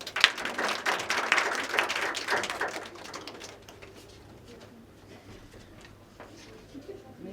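Applause from an audience at a national seminar, a burst of clapping for about three seconds that fades into quiet room murmur and low hum.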